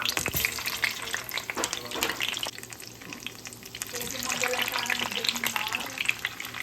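Turon, banana spring rolls, frying in a home kitchen with a steady crackling sizzle of hot oil, joined by scattered clinks of stirring and brief splashes of running tap water.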